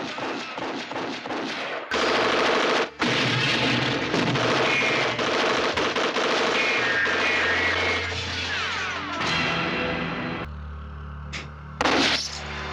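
Gunfire crackles through a Chow Yun-fat action movie shootout, with rapid bursts and heavy booming shots layered over a dense, loud soundtrack and rumbling effects, ending in a couple of sharp blasts.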